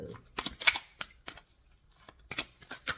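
Romance Angel Oracle cards being shuffled by hand in a quiet room, giving a string of crisp riffling flutters in short bursts with pauses between, close and fairly soft, no talking.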